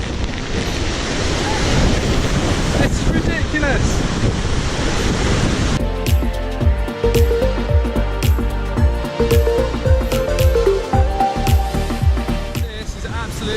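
Heavy, relentless water spray and roaring mist from Vernal Falls drench a Yosemite trail, a dense steady wash of noise under a brief spoken exclamation.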